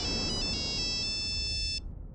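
A telephone ringtone chirps in a quick, repeating electronic pattern over background noise, then cuts off abruptly near the end. It is clear and fairly close, with no one speaking.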